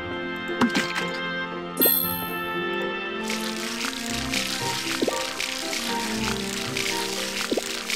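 Watering crops in the farming game Harvest Moon, with soft liquid splashing and pouring bursts over a steady bed of background game music and tones.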